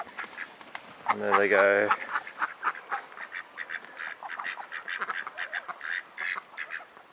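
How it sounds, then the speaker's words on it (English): Muscovy ducks near a farm pond give a series of quacks, starting with one loud harmonic call up close, then a steady run of fainter, rapid calls, while a voice speaks briefly over them. "recently we bought 3 more Muscovy ducks, and we were given these ducklings as well"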